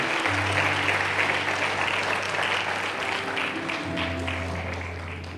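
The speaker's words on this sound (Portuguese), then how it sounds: "Pode dar um aplauso ao Senhor Jesus" A church congregation applauds during a service, a thick continuous wash of clapping with a steady sustained tone beneath it that eases slightly toward the end.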